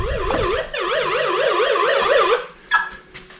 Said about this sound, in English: Alarm in the house is going off.